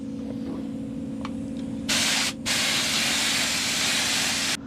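Paint spray gun spraying primer onto mini camper tubing, a steady low hum giving way to a loud close hiss of spray that cuts out briefly and then resumes until stopping abruptly.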